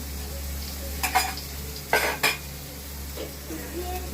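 Onions frying in a pan, with a few short clinks and scrapes of a utensil stirring and lifting them over a steady low hum, no talking.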